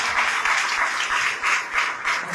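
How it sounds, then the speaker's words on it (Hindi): A church congregation claps loudly for a visiting pastor and his family, rhythmic waves of applause pulsing for a couple of seconds with no talk over it. "एक बार जोरदार तालियां मारें उनकी"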